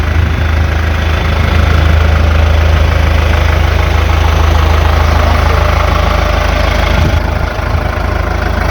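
A Kubota 95-horsepower tractor's diesel engine idles steadily and loudly throughout, a low, even rumble with a faint knocking rhythm and no voices.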